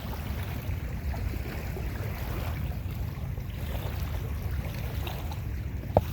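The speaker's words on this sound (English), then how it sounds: "You can sit and listen to the water, waves rolling gently up onto the shore." Gentle lake waves roll onto a sandy park shore in a low, continuous wash with faint outdoor ambience and one small knock near the end.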